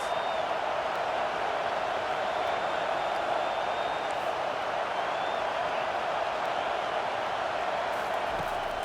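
Stadium crowd noise in the American football game College Football 25, Texas Longhorns versus Ohio State Buckeyes, a steady, loud roar of a large crowd cheering without pause for the whole stretch.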